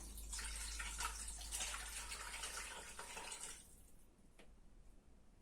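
Liquid pours into a multicooker bowl as a steady, faint rushing splash for about three and a half seconds, then stops, leaving a quiet room hum and a small drip.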